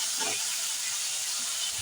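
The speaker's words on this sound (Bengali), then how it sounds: "তারপর আমি কেটে রাখা আলুগুলো দিয়ে ভাজতে থাকবো" Cut potatoes frying in hot oil in a pan after green chillies: a steady, close sizzling hiss that carries on evenly throughout, with no talk.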